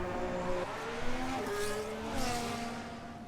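Racing car engines in a Formula 1 video game at the Saudi Arabian Grand Prix whine and rev continuously at a moderate distance, pitch rising and shifting as cars accelerate, with a steady hum underneath.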